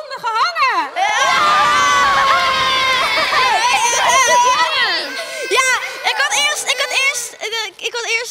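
A young audience cheers and shouts in excitement at a kids' sports challenge, loud and sustained, with high voices rising and falling and applause mixed in before the noise tapers off.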